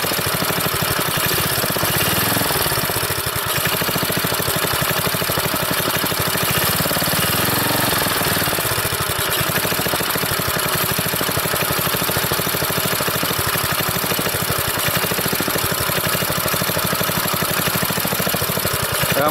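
An old, once-seized rototiller engine runs with its air filter back on, a loud, constant close-up chugging drone that stays steady and unbroken throughout.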